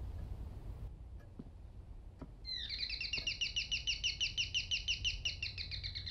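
Birds chirp in the video game Devotion, starting after a few faint ticks: a rapid, regular run of bright, thin chirps repeating steadily at moderate volume over a low background hum.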